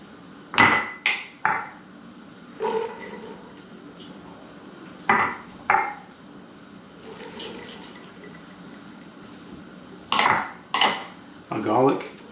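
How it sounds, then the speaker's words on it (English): Vegetables go into a heated pot for an allergy-free Bolognese, with sharp metallic clanks and clinks of utensils against the pot in irregular bursts of two or three, separated by quiet gaps. "we're going to start by putting in our vegetables"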